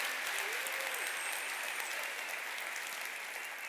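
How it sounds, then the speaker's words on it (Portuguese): A church congregation gives a sustained round of applause, a dense, even wash of clapping that holds steady and fades slightly toward the end, with no voices over it. "Você pode dar uma salva de palmas ao Senhor Jesus por causa do plano e do amor dele."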